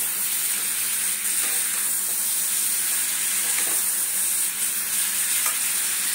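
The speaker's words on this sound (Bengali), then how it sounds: "চলো, আমি এটাকে ভাজি" Steady sizzling of boiled young jackfruit frying in hot oil, with occasional stirring scrapes, continuous and close throughout.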